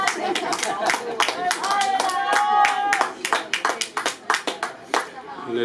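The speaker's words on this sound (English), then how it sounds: "A little bit of welcoming and applause there from the crowd." Crowd applause and scattered clapping greet the teams walking out at an over-60 men's Grand Masters hockey World Cup match, Ireland v Australia, in Barcelona; steady hands ring out for several seconds, then thin into separate claps.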